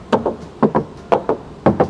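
Knuckle knocks on the fender of a BMW E39 528i coated with thick body filler, given in three quick pairs of dull, close taps with short pauses between.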